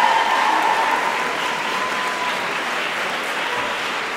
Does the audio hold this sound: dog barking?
no